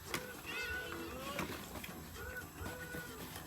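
A pet cat named Smokey gives several short, soft meows while being petted indoors, heard faintly beneath people talking.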